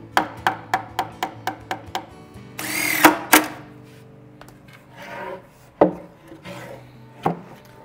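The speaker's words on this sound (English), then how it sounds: "And these last few, I'm going to pull the screws out." A drill backing screws out of a wooden base for a DIY composting toilet. Short rhythmic whirring bursts come first, then a louder grinding squeal, then a few more scattered drill pulls and rubbing sounds close by.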